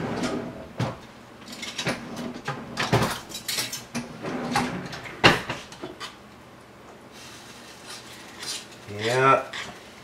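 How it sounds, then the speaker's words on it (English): A whisk clatters against a metal pot on the stove while a flour sauce for pork stew is mixed, giving irregular close scraping and clinking strikes with brief pauses and a final quick burst of rattling. "Alright, I'm going to grab a whisk. We're definitely at the whisking point."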